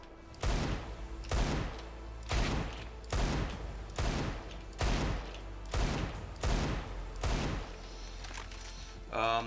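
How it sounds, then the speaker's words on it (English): Desert Eagle pistol shots fire in an aim-training session in a first-person shooter game, about nine sharp, evenly spaced reports roughly a second apart, with a voice talking underneath. "you respect the recoil time of the deagle, because if you shoot too fast it's not gonna hit"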